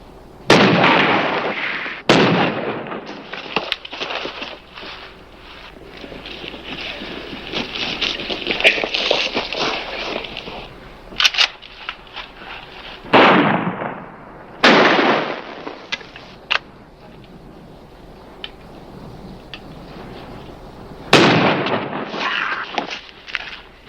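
Shotgun blasts in a Western shootout, several loud booming bursts spread across the scene at irregular intervals, with shouted voices and dramatic background sound between the shots.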